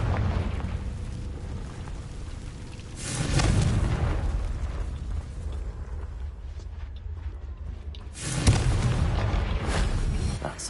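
Two heavy blasts of the Confringo explosion spell in the game Hogwarts Legacy, each a loud booming burst with a rumbling tail, a few seconds apart over steady low background ambience.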